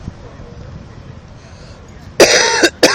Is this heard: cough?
yes